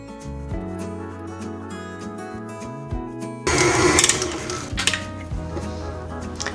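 Electric mixer beating a cup of butter with a cup of granulated sugar, a steady motor whir with rattling against the bowl that grows louder and rougher midway as the beaters dig into the mixture.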